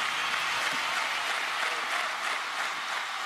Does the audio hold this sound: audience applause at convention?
yes